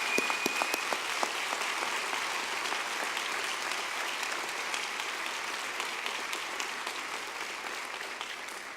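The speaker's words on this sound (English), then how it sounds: "give your parents and family a big round of applause" Graduates at a 2019 commencement ceremony give a big round of applause for their parents and families, a large crowd clapping steadily and densely for the whole stretch, fading slightly at the end.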